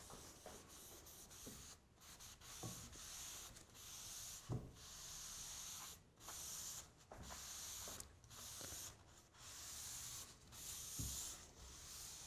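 Finish coat rubbed by hand onto a wooden Moxon vise, soft repeated swishing strokes of cloth over wood, close and fairly quiet, with short pauses between passes and no talk.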